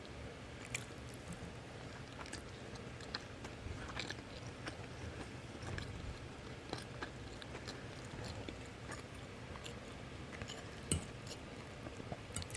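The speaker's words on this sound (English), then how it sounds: "Me chewing with my mouth closed." Quiet, close chewing of French toast with soft crunches and wet squishing, mouth closed, steady and rhythmic with no talking.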